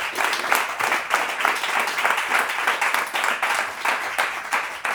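An audience at a history talk applauds in dense, steady clapping that holds evenly for several seconds, fairly close and loud, with no voices standing out.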